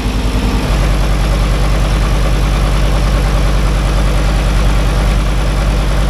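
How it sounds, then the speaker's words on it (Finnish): Car engine idling on a test run after radiator hose work, with the ignition timing running late; a loud, close, steady rumbling idle with an even pulsing beat and no talking. "Tuntuu, että tää käy nyt aika lailla myöhäisellä tää moottori."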